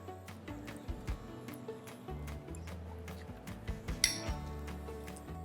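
Cutlery clinking against dishes as diners start on a plate of pen cai with crispy noodles and abalone, scattered light taps and chinks with one sharper ring, under a low background hum.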